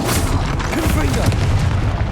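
Confringo blasting spell going off in Hogwarts Legacy, a loud booming explosion with a dense crackling burst that fills the whole moment, with game noise continuing underneath.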